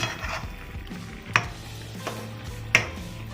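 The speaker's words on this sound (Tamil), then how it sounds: "போட்டு நல்லா மிக்ஸ் பண்ணிடலாம்." Fried veg manchurian balls being tossed and mixed in a pan, with a steady low sizzle under soft stirring scrapes and two sharp metallic clinks of a spoon against the pan, no talking.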